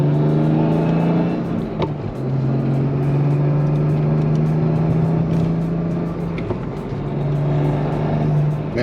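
A BMW F80 M3 fitted with an RTD short shifter pulls hard in sport mode, its engine droning steadily loud and close with brief dips at each gear change, no talking over it.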